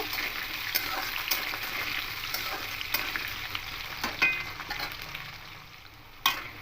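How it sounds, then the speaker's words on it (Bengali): Potato and carrot pieces stir-fried in a pan for a vegetarian Malabar spinach dish sizzle steadily, close by and fairly quiet. Repeated light scraping clicks from the stirring punctuate the frying, with no one talking. "এবার একটু হালকা করে নাড়াচাড়া করে ভেজে নেব"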